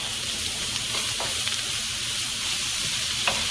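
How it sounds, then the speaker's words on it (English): Squeezed jarred garlic sizzles steadily in a hot frying pan as a utensil stirs it, a close, constant crackle with a few faint scrapes. "Stir it up."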